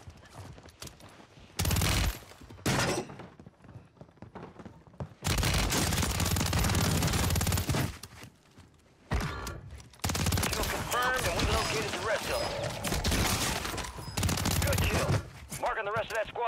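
Bursts of automatic gunfire from Call of Duty Warzone, likely a BAS-B rifle, crackle in loud, dense volleys separated by short quieter gaps, with game effects between them.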